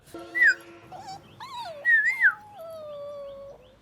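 A dog in a room whines and whimpers nearby, a few sharp high cries followed by a long drawn-out whine that tapers off, with no talking.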